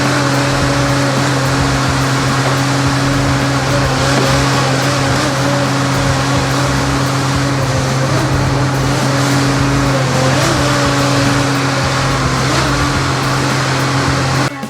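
A Tigercat forestry machine loading logs onto a truck, its diesel engine giving a loud, continuous, steady drone with a strong low hum throughout and no talking.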